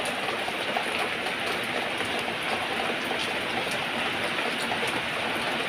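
Heavy rain pours steadily under strong wind at night, a dense, even roar of falling water with no break and no voices.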